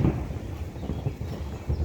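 Low rumbling thunder rolls through a night storm during flooding, a continuous deep grumble with swelling peaks over steady rain and wind, no voices.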